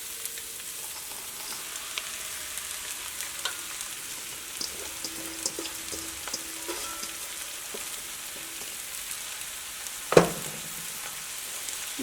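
Shredded cabbage and beans for a cabbage thoran are tossed into a pan and stirred, making a soft, continuous sizzle with light scraping and one sharper clatter late on.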